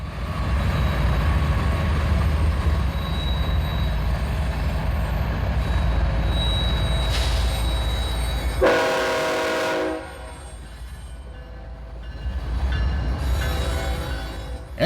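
A BNSF freight train rumbles past at close range, a steady low roar with a thin squeal, then a loud horn blast before the noise eases and swells again.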